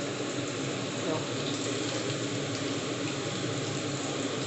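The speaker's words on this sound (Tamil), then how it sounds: "இப்போ இதுலேருந்து ஒரு சவுண்டு வரும், அதுலேயே உங்களுக்கு தெரியும் அது எந்த அளவுக்கு ஃப்ரை ஆகுதுன்னு சொல்லி அந்த எண்ணெயில்" Potato cutlet frying in hot oil, a steady, even sizzling hiss that stays constant throughout at moderate level, with no talk.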